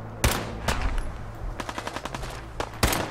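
Rapid gunfire in the video game Fallout 4: sharp single shots followed by a quick run of machine-gun bursts and two more loud cracks, close and dominant with no talk.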